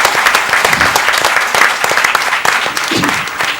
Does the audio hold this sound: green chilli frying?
no